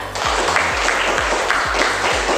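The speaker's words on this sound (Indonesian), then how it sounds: "Ya, kita berikan tepuk tangan untuk Tia dan Naira" Students in a classroom applaud two classmates, a steady wash of clapping running the full moment while a low rhythmic thumping pulses beneath it.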